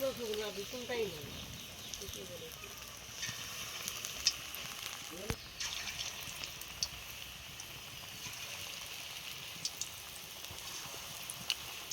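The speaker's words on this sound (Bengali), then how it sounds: "আমি এবারে ছোট ছোট করে পকোড়াগুলি ভেজে নেব" Small vegetable pakoras deep-fry in hot oil, giving a steady, fairly quiet sizzle with scattered crackles and pops that continues throughout.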